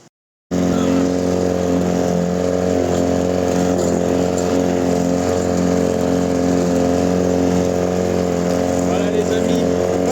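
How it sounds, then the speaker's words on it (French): A lawn mower engine starts after a brief pause and runs at a steady, loud drone for the rest of the clip, close by and unbroken. "on passe la tondeuse"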